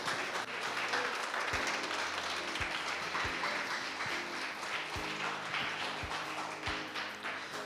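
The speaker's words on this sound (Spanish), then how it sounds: "Vamos a darle un aplauso fuerte al Señor," A church congregation applauds during a Sunday service, a steady, full wash of clapping lasting several seconds with occasional low knocks underneath.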